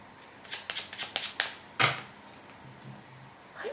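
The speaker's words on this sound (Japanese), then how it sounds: "こちらルノルマンカードシャッフルしていますが、軽くもう一度シャッフルしていきます" A deck of Lenormand cards is shuffled by hand in a quick run of crisp riffling bursts, followed by a sharper single snap and a few faint soft rustles afterward, close and quiet.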